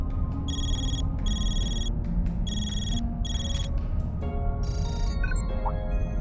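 A phone in the Trails Through Daybreak video game rings in repeated electronic bursts over a steady background music bed, followed by a sharp glitchy burst of tones.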